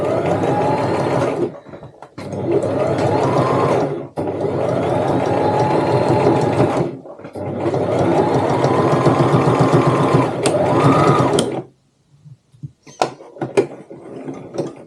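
A sewing machine back stitches while making a tote bag, loud bursts of rapid stitching with short pauses between runs, then a few scattered clicks and handling noises at the end.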